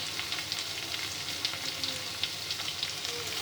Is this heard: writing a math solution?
no